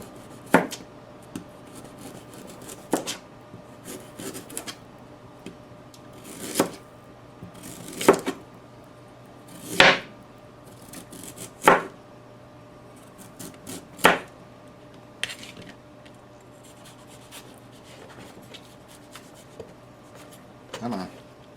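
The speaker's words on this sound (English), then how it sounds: "So I cut the top off, and then I cut the root end off." A knife slicing a peeled vegetable into thin rings on a cutting board for a potato salad, a series of short crisp cuts spaced a second or so apart, close and fairly quiet with no talk.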